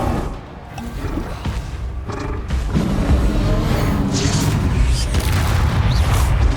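A spell blast in the video game Hogwarts Legacy, a loud, dense, rumbling explosion with a low roaring body that swells and keeps booming, crackling and roaring through the clip.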